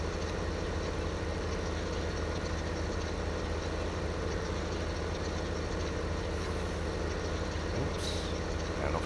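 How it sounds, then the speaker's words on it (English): A tracked windrowing tractor in Farming Simulator 15 runs with a constant low engine drone, loud and steady throughout, with faint higher mechanical tones over it. "this is what I call my windrowing tractor"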